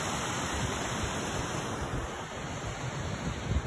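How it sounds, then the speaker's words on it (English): A small freshwater runoff waterfall pours beneath the Scapa whisky distillery and down onto Scapa Beach, giving a steady, close, unbroken rushing hiss of falling water with no voices. "This is the water runoff or small waterfall under Scapa Whiskey, heading down the fresh water here and down onto Scapa Beach."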